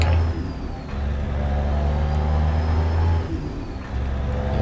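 Caterpillar 3406A diesel truck engine in American Truck Simulator, a deep steady rumble that stays loud and close throughout, with a brief dip near the end as gears shift, no talking.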